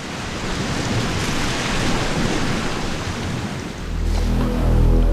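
Ocean waves crash steadily onto the shore at a beach, a loud continuous wash of surf with some wind buffeting, rising into a deeper rumbling surge near the end.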